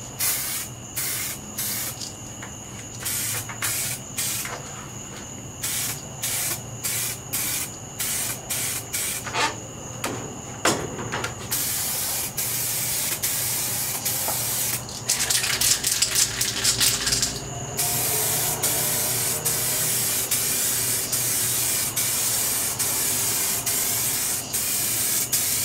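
A gloss coat of paint is sprayed onto a Peavey Raptor guitar body outdoors, short rapid hissing bursts of the spray can that stutter on and off, then longer steady hisses, close and loud without any speech.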